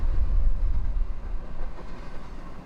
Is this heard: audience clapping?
no